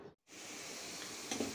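Chopped garlic, onion, whole cumin and two dried chillies fry in a pan, a close, soft, steady sizzle broken by a short silent gap near the start and a brief stirring scrape toward the end.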